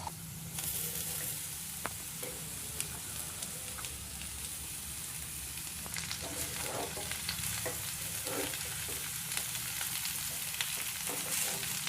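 Sliced snake gourd frying in a pan is stirred continuously for about twelve seconds, a steady close sizzle with scraping spoon strokes against the metal and no voices.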